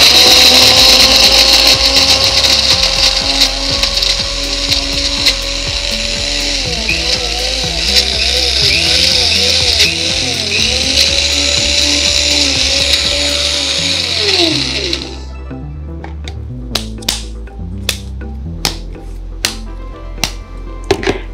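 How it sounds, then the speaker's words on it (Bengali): An electric blender whirs loudly as it purees palm fruit flesh for a homemade face mask, its pitch shifting as the load changes, then cuts off after about fifteen seconds, leaving a few sharp clicks and taps. "এবার একটু ব্লেন্ড করে নিতে হবে।"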